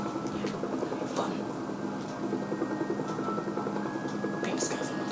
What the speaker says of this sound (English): Just flying a really fast terrorist helicopter.